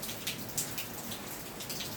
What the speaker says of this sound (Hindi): ये देख सकते हो अभी इतनी तेज़ बारिश हो रही है